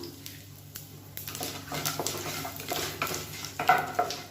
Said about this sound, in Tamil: எல்லாமே நல்லா பொரிய ஆரம்பிச்சிருச்சு